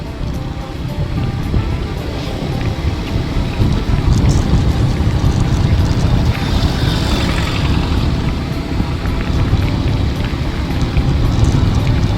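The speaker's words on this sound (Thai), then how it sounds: "ลมแรงเนี่ย" Strong wind buffets the microphone with a heavy, rumbling roar, mixed with water and wave noise, continuous and loud throughout.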